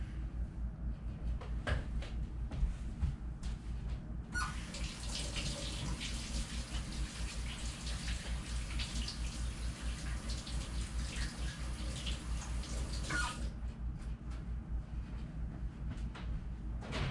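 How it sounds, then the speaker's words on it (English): Kitchen tap running as hands are washed under it, a steady close splash of water that is fuller in the middle stretch and lighter at the start and end, without talk. "let me wash my hands."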